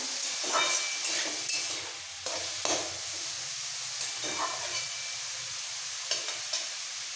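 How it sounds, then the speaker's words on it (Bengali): Carrots, beans and cabbage sizzle in a hot pan with a continuous hiss, broken by the scrape and clatter of stirring at irregular intervals, close and steady. "এবারে তিনটে সবজি ভালো করে ভাজবো একদম যাতে সেদ্ধ হয়ে যায়"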